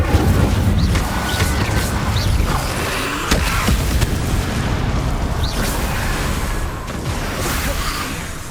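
Fiery spell blasts from Hogwarts Legacy burst and whoosh in repeated sharp pops and booms over a dense, rumbling game soundscape, staying loud and close throughout.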